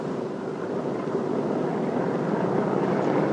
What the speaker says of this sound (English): turn the plane the rest of the way around so that it points down the runway